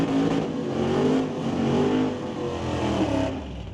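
At an old-time drag race, a 1967 Ford Mustang and a 1969 GMC pickup rev their engines with loud, rising and falling engine roars heard from a moderate distance in an open outdoor setting.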